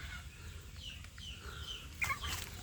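Free-range village chicks in a netted run cluck softly amid steady low background noise, with a brighter burst of chirping near the end; no voices.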